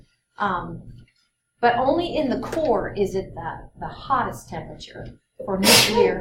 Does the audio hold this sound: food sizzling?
no